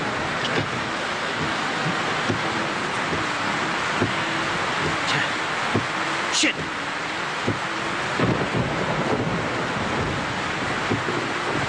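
A rainstorm lashes down around a car stalled in the rain, a constant roaring wash of rain and wind with one sharp, loud crack of thunder partway through and a few softer knocks.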